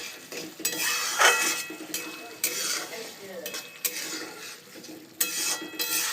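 Boiled chana dal being fried and stirred in a pan for a vegetarian curry, with a spoon scraping and clinking against the pan in irregular strokes over a soft sizzle, close by and moderately loud.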